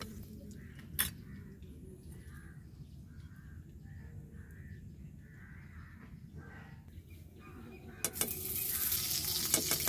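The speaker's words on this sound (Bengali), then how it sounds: "আলুটাকেও সবার লাস্টে ভালো করে ভেজে নিয়েছি" Potato pieces fry in oil in a kadai for khichuri, giving a continuous crackling sizzle. Crows caw in the background, and the noise grows louder and harsher near the end.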